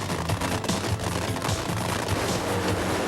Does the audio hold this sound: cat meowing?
no